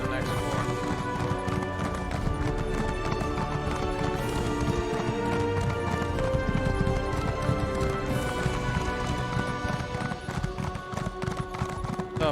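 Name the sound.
horse hooves clip-clopping while riding, video game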